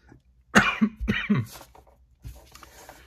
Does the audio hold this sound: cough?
yes